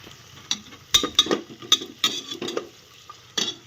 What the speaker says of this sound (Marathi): छान सगळं परतून घेतलं मस्त पैकी